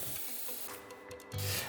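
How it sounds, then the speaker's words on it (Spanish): Short wooden frames on an Occre San Juan model ship hull being sanded flush by hand, a steady close rubbing rasp that pauses briefly and then resumes a little stronger. "Fijaros cómo ponemos primero los marcos cortos y lo lijamos para dejarlo al ras."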